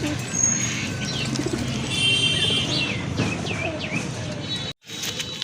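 Giribaz pigeons coo and give short chirps close by, with a soft flutter of wings under the calls before a brief cut near the end.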